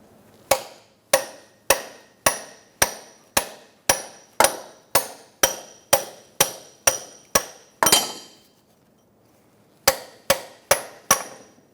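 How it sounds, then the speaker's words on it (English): A sledgehammer drives a punch to knock loose the front right CV axle on a 2013-2022 Buick Encore: about sixteen loud, evenly spaced metallic whacks with ringing decay, a two-second pause, then four more strikes. "now I'm going to use a punch and a sledgehammer, and we're going to give it a couple of good whacks to disconnect it"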